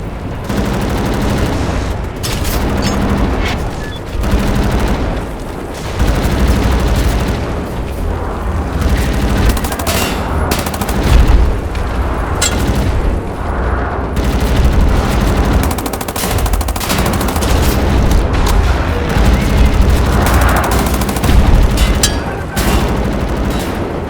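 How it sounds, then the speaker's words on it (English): Sustained machine gun fire in the shooter Wolfenstein: The New Order, dense rapid bursts with heavy booms mixed in, loud and continuous, forming a thick wall of gunfire throughout. "Now disable the machine gun nest."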